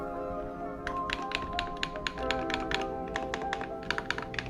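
Fingers tap the pads and buttons of an Akai MPC X SE sampler in a rapid, uneven series of close, crisp clicks and soft thunks, up to several presses a second, with no talking.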